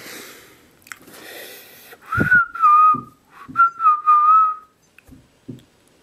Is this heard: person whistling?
yes